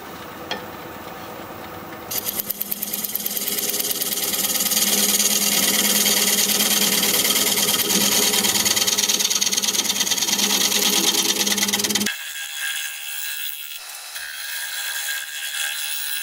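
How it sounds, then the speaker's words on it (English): Negative rake scraper smoothing a spinning wood piece on a lathe, a loud steady scraping hiss that starts after two seconds, holds for about ten, then cuts off to a quieter hum. "I'm going to switch to my negative rake scraper and just see if I can't smooth out this side"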